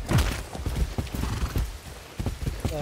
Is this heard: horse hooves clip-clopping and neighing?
yes